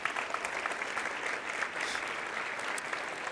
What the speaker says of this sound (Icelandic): Skulum gefa honum gott klapp.